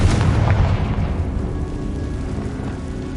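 A Confringo fire spell bursting in Hogwarts Legacy: a loud, heavy boom up front whose deep rumble fades away over a few seconds.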